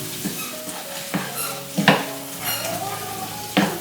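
Eggplant bharta roasting in a hot pan, with a steady sizzle and several sharp scrapes and clanks from a spoon stirring against the metal, close and continuous.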